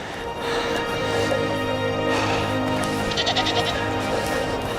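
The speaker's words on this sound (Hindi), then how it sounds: "बकरियों का झुंड।" A herd of goats bleats repeatedly on a mountain hillside, several overlapping cries steady and fairly close, with no talking.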